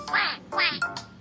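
Cartoon duck in a children's farm-feeding video game quacks three times in quick succession, bright nasal calls close and clear with short gaps between them.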